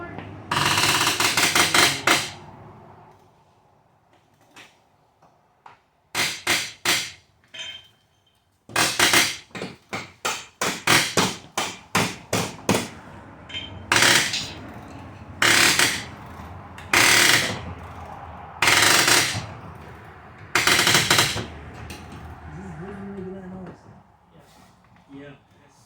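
Hammer blows ring out while a V6 engine is pulled from a Mustang, with loud bursts of rapid metallic strikes and pauses between them, up close. Quiet talk runs in the background.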